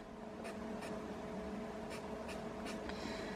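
Pen or pencil scratching on paper while a parabola graph is roughly sketched by hand, several short strokes over a faint steady room hum, quiet and close.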